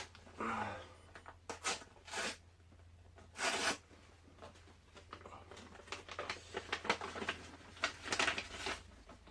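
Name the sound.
opening a trading card envelope from Japan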